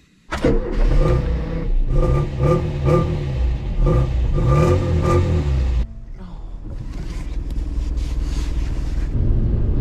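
Mk2 Ford Fiesta fitted with a new exhaust starts up with a crank and a catch, then revs in several sharp blips before settling and pulling away into a steadier, quieter driving drone, heard from nearby.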